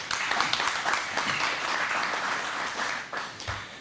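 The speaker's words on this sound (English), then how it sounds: "I think they deserve another round of applause." A rally crowd at a Tennessee VFW post applauds military supporters, the clapping thick and sustained throughout with small surges and a few faint voices underneath.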